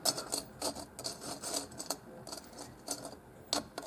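Stone being drilled with a ruby drill bit prototype gives a dry, rasping grind in short, repeated bursts, close to the microphone and with no talking.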